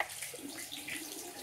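Something being rinsed under a running tap, a faint, steady splashing hiss of water lasting only a moment.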